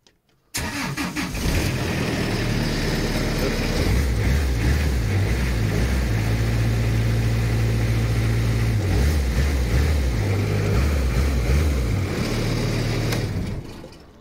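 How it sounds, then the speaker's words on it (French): A Kubota engine on a 200-bar high-pressure drain unblocker cranks and catches, then settles into a steady, loud, close-up idle with a low rumble that stops abruptly near the end. "Donc là vous voyez, on met le contact, toc, on vérifie que l'arrêt d'urgence, l'accélérateur."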